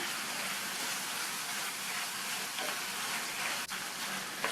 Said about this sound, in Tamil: அதை சேர்த்துட்டு தக்காளி வதங்கிறதுக்காக கொஞ்சமாக உப்பு சேர்த்து வதக்கிக்கலாம்.